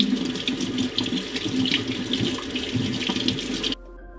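A kitchen faucet runs water into a sink with a steady splashing rush and some clatter, close and fairly loud, stopping abruptly near the end.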